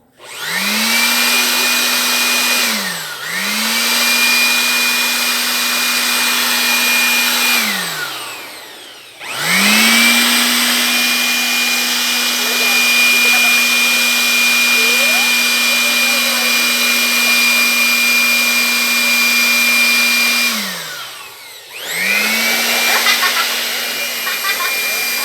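A Mitsushi CPU air blower used as a vacuum whines loudly and steadily, spinning down and back up several times between longer runs, with faint voices underneath.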